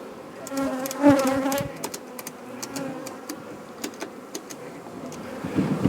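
Honey bees from freshly split colonies buzz in a steady, close drone with intermittent brief flyby rises, no voices present.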